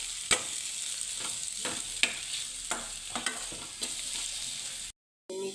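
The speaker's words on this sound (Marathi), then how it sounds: "आणि मग लगेच मेथी टाकते बघा." Fenugreek leaves (methi) drop into a pan of sizzling peanut powder, giving a steady soft fry with several light scraping stirs and small clicks, fairly quiet and close, with no talking.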